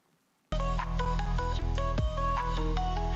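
A phone ringtone sounds loud and steady after a half-second of silence, a bright electronic melody for an incoming urgent call, with no talking over it.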